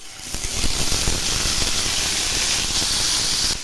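Large pieces of paneer frying in hot oil for palak paneer give off a loud, steady sizzle and hiss that holds evenly for the whole stretch, with no talking over it.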